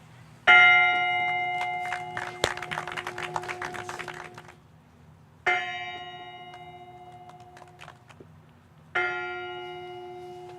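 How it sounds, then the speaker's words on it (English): The Spirit of Minnesota tribute bell, cast partly from a soldier's dog tags, is struck three times at a ceremony, each loud metallic clang ringing out and slowly decaying before the next strike. "So ringing this bell in memory and honor of our dad and husband, William Donald Coy"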